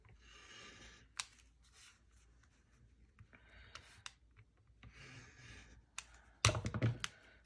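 Quiet snips and rustling paper from scissors cutting out slide mounts at close range, in scattered bursts, ending with a louder clatter near the end.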